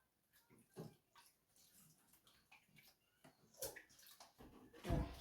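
Broccoli and carrots being rinsed in water, soft sloshing and splashing nearby with a louder splash at the end.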